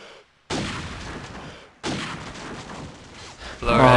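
Gunfire in the video game Call of Duty 4 during a competitive bomb match, with two loud bursts of shots and a harsher, louder burst at the end, separated by a short gap.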